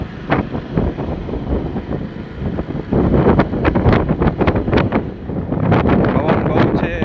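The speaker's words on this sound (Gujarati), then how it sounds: "પવન બહુ છે" Strong gusts buffet a microphone outdoors near a shrine, a loud low rumble that swells and stays heavy, thumping against the mic, with no clear speech.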